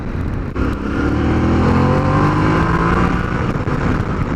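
A 2020 Yamaha Ténéré 700 adventure motorcycle engine pulls hard at full throttle on tarmac, a loud, steady drone whose pitch climbs as it accelerates, close by and without any talk.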